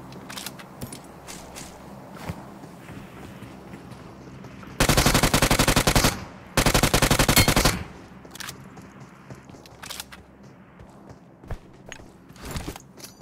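PUBG Mobile gunfire comes as two loud, close bursts of rapid automatic shots midway through, separated by a short pause, with quieter footsteps and scattered clicks before and after.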